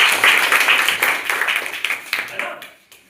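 Students in a classroom break into a burst of clapping, a dense close patter of hand claps that thins into scattered claps and fades out, with voices mixed in.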